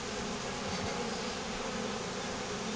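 Honeybees from a swarm buzzing, a dense continuous hum close by, steady and alone without talk.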